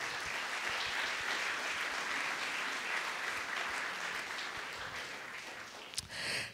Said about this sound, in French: le docteur Luc Julia, que l'on peut applaudir, s'il vous plaît.